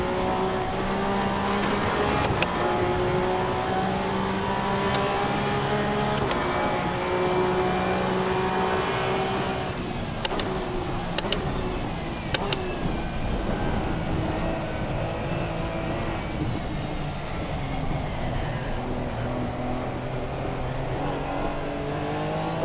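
A race car lapping in Assetto Corsa EVO on a wet, rainy track: a steady engine note rising and falling through gear changes, with sharp shifts and a few clunks, alone without talk.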